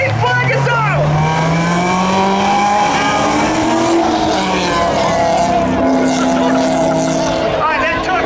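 A Honda and a Corvette drag race at Hudson Speedway, engines revving up through rising pitches as the cars pull away, a loud, continuous motor roar with shifting tones throughout.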